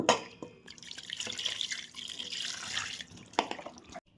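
Running water pours and splashes as half a kilo of goat meat with turmeric is washed in a vessel, a soft continuous trickle with small drips and clinks, fairly quiet.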